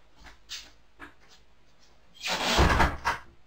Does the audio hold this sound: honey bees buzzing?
no